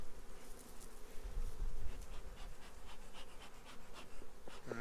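Honeybees buzz loudly and continuously around an open hive during a fall inspection in a garden, a dense close-up drone with individual bees zipping past, and no talking.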